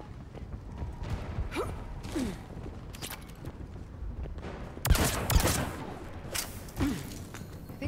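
Pistol fire in the video game Mass Effect 3, a few sharp shots and mechanical clicks with whooshes over a steady game soundscape, one louder burst midway, no talk.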